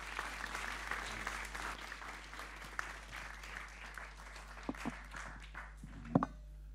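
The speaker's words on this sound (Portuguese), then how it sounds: "Uma salva de palmas para aqui," Guests at the Palácio de Belém give the President a round of applause at an artists' program event. The clapping is moderate and steady over a low constant hum, thins out toward the end, and one sharper knock or clap stands out near the close.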